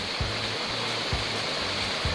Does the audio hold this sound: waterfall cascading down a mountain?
yes